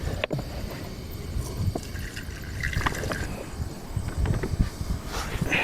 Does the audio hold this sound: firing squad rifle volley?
no